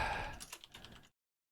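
Rapid keystrokes on a computer keyboard while writing Rust code, a brief close burst of clicks that ends abruptly in silence.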